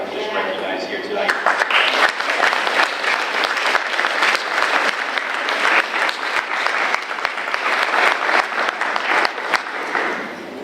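A meeting audience applauds teachers and staff being recognized, with sustained, dense clapping that swells after a second and continues steadily, with some voices mixed in.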